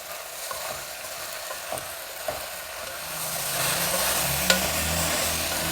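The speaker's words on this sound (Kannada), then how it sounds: "ಒಂದು ಎರಡು ನಿಮಿಷ ಒಗ್ಗರಣೆನಲ್ಲಿ ಕಾಳು ಎಲ್ಲನೂ ಹುರಿದಿದ್ದೀನಿ" Field beans fry in a hot oil tempering for a gojju, giving a steady close hiss and sizzle that grows louder and fuller halfway through, with no talking.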